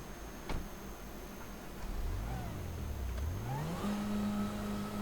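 A car engine in GTA V cranks and then revs, its pitch climbing and settling into a steady hum that holds fairly loud against a faint background.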